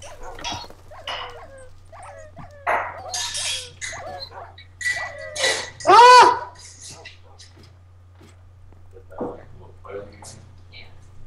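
Dogs in a video game bark and yelp in short bursts, one loud cluster midway, over a steady low hum with quieter yips scattered around.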